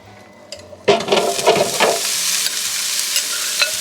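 Vegetables sizzle in a preheated pan, starting with a burst of crackling as they hit the surface, then a steady hiss with occasional stirring clatter.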